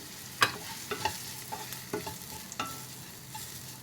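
Spoon stirring red chili masala, onion and garlic spice paste with turmeric and salt in a frying pan, scraping and clattering in irregular strokes over a steady sizzle, close up with no talk.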